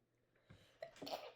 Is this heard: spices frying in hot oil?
no